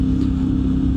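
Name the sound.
CFMOTO Ibex 450 motorcycle accelerating in 4th gear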